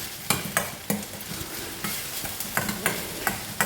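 A spoon scrapes and stirs oats upma in a pan with a soft sizzle beneath, in a quick run of close, distinct strokes and clinks, a few clustered near the end.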